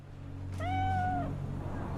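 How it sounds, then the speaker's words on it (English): A cat in the video game Cyberpunk 2077 gives a single clear, drawn-out meow over a low steady background hum, fairly close and alone. "Look at you, good kitty."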